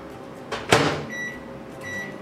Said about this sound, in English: I'm gonna pop that in the microwave for 1 minute